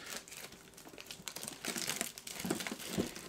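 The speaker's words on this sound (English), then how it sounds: "Ah, rip into the tin." Crinkling, tearing plastic wrap being ripped off a Pokemon Volcano lunch box tin, a busy run of close crackles and rips rising in intensity over a few seconds.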